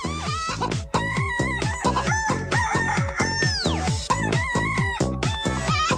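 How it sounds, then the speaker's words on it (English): A chicken clucks in quick, steady bursts throughout, with a drawn-out crow rising in the middle; the bird sounds close and clear, with no talking over it. "A chicken. Isn't that amazing?"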